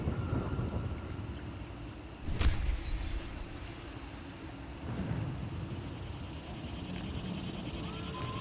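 Steady heavy rain pours throughout, with a sharp crack of thunder partway in followed by a lower rumble, wind blowing underneath.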